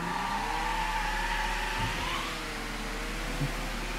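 Car tires spinning and squealing in Mafia 3, a sustained engine drone with a wavering screech of rubber, steady and fairly close with no talk.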